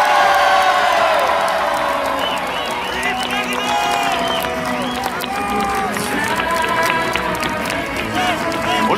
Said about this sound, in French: faites un tonnerre d'applaudissements pour Philippe Humilier